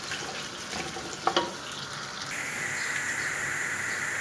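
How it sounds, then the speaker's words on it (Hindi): Chopped onions frying in hot oil in a pan for a chicken jalfrezi, a steady close sizzle with a few brief clinks, the hiss growing brighter and denser partway through. "ऑयल के अंदर हम ऐड कर देंगे प्याज"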